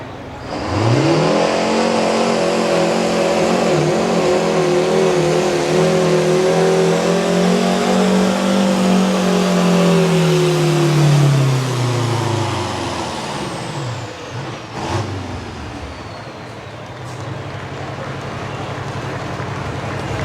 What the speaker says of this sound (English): Now this Detroit two-stroke is going to get loud.